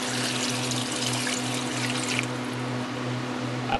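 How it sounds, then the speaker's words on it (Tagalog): Water pours steadily into a cooking pot for a Filipino crab soup with misua and patola, a close, continuous splashing stream under a low background hum, easing slightly near the end. "ilalagay na natin kaagad ang water."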